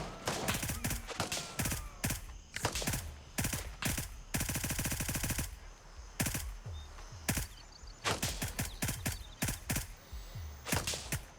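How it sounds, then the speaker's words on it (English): Rapid gunfire in the tactical shooter Gray Zone Warfare, close sharp bursts of automatic fire with one long sustained burst and short volleys separated by brief pauses. "We just have to slow down our shooting there."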